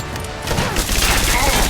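Dense, continuous gunfire from the zombie mode of the video game Rise of the Tomb Raider fills a short, loud burst of rapid shots, with faint voices mixed underneath.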